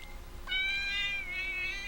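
A pet cat meows twice close to the microphone, a short drawn-out cry followed by a second, longer whining meow, with no talking over it.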